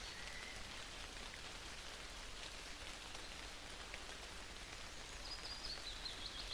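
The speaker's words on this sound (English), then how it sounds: "Rainy skies are the best skies! Although it's pretty clear of clouds to be raining this much." Steady rain in the video game Stabbs Stabby Stabulus patters on surfaces as a soft, even hiss that never lets up, with a faint bird chirp near the end and no voices.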